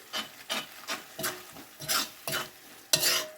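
A spoon stirs a sweet spicy garlic chilli sauce with a little white vinegar in a pan, about nine rhythmic scraping strokes over a faint sizzle, close and alone without voices.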